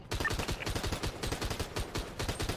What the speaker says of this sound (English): They're still shooting at Air One.